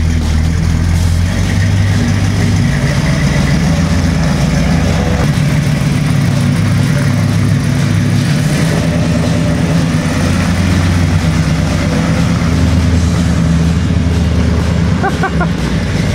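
A Ford F-250 Highboy Ranger XLT pickup idles steadily with a deep, continuous low rumble, loud and close, running throughout without any talking.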